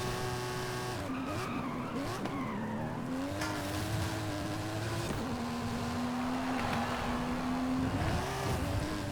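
A new Aston Martin in Forza Horizon 5 revs steadily and loud throughout, its engine pitch rising and dropping through gear changes, with tire squeal and skidding mixed in and no talking.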